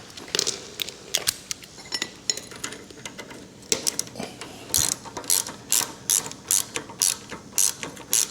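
A hand ratchet clicks in short, quick bursts while snugging the lower linkage on an XLCH chopper motorcycle, close and crisp, with faint metallic handling noises between strokes.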